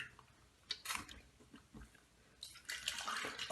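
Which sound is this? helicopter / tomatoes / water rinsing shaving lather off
water rinsing shaving lather off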